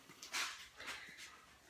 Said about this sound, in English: The dog's in.